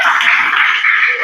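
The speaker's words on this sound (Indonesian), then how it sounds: "Tepuk tangan untuk SMP Negeri 3." Students applauding at a school seminar on digital literacy, a dense, loud, continuous wash of clapping from a crowd throughout.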